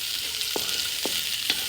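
Onions sautéing in a pot for chicken tinola, a steady close sizzle of frying with three short scraping stirs spaced about half a second apart.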